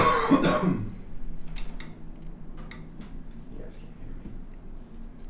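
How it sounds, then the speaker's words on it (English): A single throaty rasp of throat clearing up close at the start, followed by quiet room tone with faint ticks and small movements. "I'm gonna do a quick throat clear."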